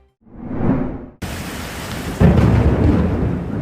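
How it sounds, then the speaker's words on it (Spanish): A thunderstorm with heavy rain in Guayaquil: a rolling rumble of thunder swells and fades, then a dense, loud downpour hisses steadily and grows heavier near the end. "se registró una tremenda tormenta eléctrica y acompañado por fuertes lluvias"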